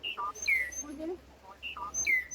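A caged mynah bird at a pigeon market imitating a phone ringtone, giving two repeated bursts of short, bright electronic-like whistled notes, faint and close.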